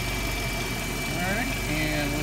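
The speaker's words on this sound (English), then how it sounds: "I've got her idling right here at about oh, 700 RPM" Car engine idling at about 700 RPM, overdue for a tune-up, a steady close mechanical hum with a faint knock running continuously.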